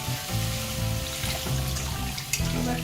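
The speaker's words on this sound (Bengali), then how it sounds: "কষানো হয়ে গেলে এবারে মা ঢেলে দিচ্ছে হচ্ছে জল" A little water is poured into a hot kadai of sautéed spices for a pabda fish curry. A steady splashing hiss and sizzle sounds close up and runs on alone.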